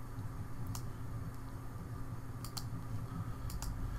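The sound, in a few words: typing on a Mac computer keyboard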